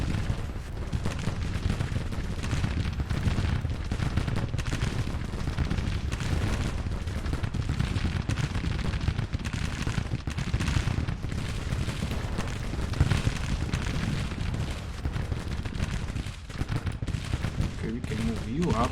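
Musket volleys and artillery fire in a Grand Tactician Civil War battle, dense crackling gunfire with scattered booms rolling on continuously at moderate distance, with occasional talk over it.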